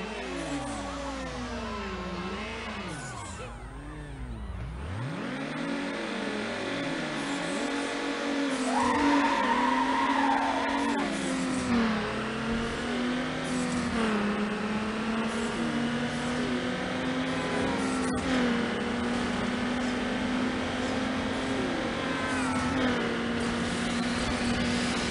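A V6 six-speed car racing in Need for Speed Underground, engine revving and climbing through gears with sweeping pitch changes, tires squealing and skidding, loud and continuous throughout.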